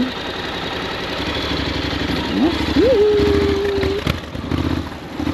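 A 750 cc ADB motorcycle engine idles with a steady low rumble, moderately close, while a rising whine and tonal hum sweep in partway through and background traffic noise continues.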